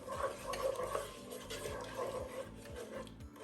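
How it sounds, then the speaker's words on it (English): Laksa paste stirred in hot groundnut oil in a pan, with a steady, close sizzle and scraping, rasping stir strokes repeating throughout and no talk. "give that a good stir to make sure that it starts to sizzle nicely in that groundnut oil."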